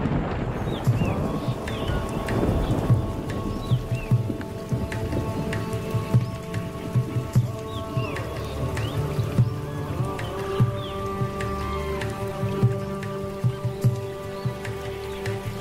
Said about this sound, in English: The calls of the peacock and the pitter announce the arrival of the rains.